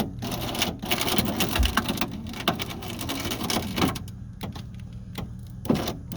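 A worn window regulator motor on a 2005 Ford Focus grinds and whirs continuously at close range, with rattling clicks and a few sharp knocks as the broken mechanism runs.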